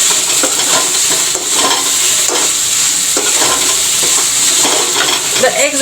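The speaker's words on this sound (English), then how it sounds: "Now I will put in the potatoes." Potatoes tumble into a hot pan of frying onion and tomato masala, setting off loud sizzling with repeated scraping and stirring strokes of a utensil against the pan.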